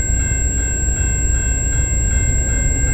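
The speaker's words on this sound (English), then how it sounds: "We got via 76 departing the station." VIA Rail passenger train 76, hauled by a P42 locomotive, departing a station in London, Ontario: a loud, steady rumble of rolling cars close by, without talk.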